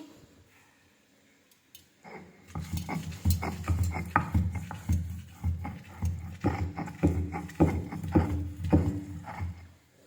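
A stone pestle grinds coriander leaves and hog plum into chutney on a flat grinding stone. After a quiet start, rhythmic, gritty scraping strokes repeat steadily up close.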